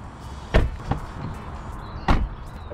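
Door of a Vauxhall Mokka car shutting: two sharp, fairly close thuds about one and a half seconds apart, with a softer knock between them, over a quiet background.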